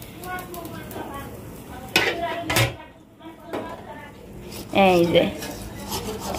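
An oiled raw potato is rubbed against a metal kadai, making short scraping and clattering strokes in a couple of distinct bursts while people talk nearby.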